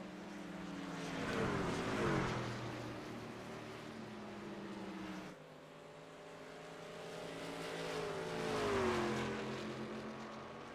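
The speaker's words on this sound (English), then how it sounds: "One mile of truck racing action remains here tonight from Phoenix Raceway" Racing trucks roar past on the one-mile Phoenix Raceway oval during the Sun Devil 150 Truck Series race, engine noise swelling and fading with Doppler sweeps as packs pass, heard from a distance.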